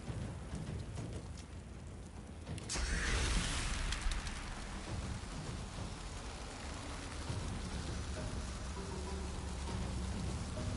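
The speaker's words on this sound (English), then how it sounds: "Hail Strike." A Hail Strike spell in Divinity 2: a steady hiss of pelting hail like heavy rain, swelling into a louder rumbling crash partway through, then continuing as a dense, close clatter.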